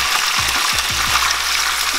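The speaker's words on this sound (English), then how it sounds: "I'm just gonna fry to doneness" Fish frying in oil in a pan, cooked until done for a Nigerian fish and plantain dish: a steady, dense sizzle fills the clip, with a few low knocks of a spatula or pan near the start.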